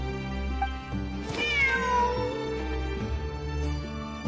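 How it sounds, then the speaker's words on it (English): A cat meows in the Genshin Impact video game, one drawn-out rising-then-falling meow over a steady droning musical background, clear and close. "Wait, there it is! The cat!"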